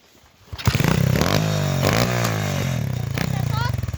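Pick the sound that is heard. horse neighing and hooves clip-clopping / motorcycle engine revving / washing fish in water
motorcycle engine revving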